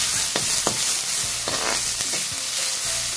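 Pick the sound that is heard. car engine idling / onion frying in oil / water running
onion frying in oil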